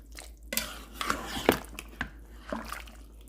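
Food is stirred in a cooking pot with a utensil at a Jamaican home stove, giving irregular close clinks and scrapes against the metal over a low background hum, with faint voices now and then.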